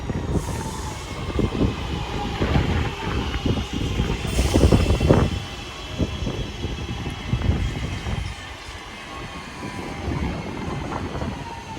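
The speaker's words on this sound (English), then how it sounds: "Train now arriving is a 323 going to Liverpool Home Street" A Class 323 electric train bound for Liverpool rumbles into Roby station, with rolling wheel noise and clatter swelling and easing, plus faint brake squeal, fairly close by.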